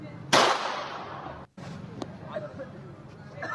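A sharp, loud bang from thugs firing in the open, caught on CCTV, rings out and then decays, followed by a fainter crack amid background voices and street noise.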